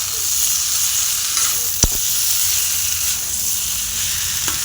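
Spice masala fries in a pan with a continuous hissing sizzle, close and even, broken by one sharp knock and a few faint stirring taps, with no talk.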